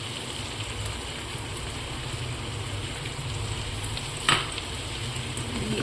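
Tomato, soy and chilli sauces poured into a hot frying pan, a steady close sizzle running throughout, with one brief clatter partway through; no talking.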